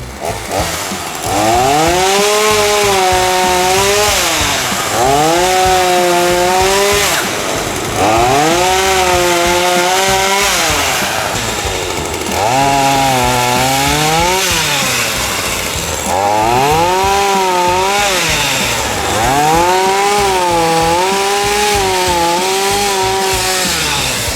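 A loud chainsaw runs close by, its engine repeatedly revving up and easing back in long rising and falling waves.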